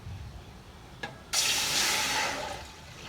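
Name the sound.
water poured into a cooking vessel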